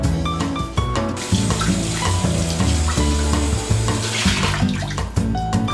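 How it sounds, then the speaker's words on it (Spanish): Kitchen tap running steadily while a bell pepper is washed under it, a loud continuous splashing stream with music playing underneath throughout and brief dips as the pepper shifts under the water. "Empezaremos lavando el pimiento y quitándole las pepitas."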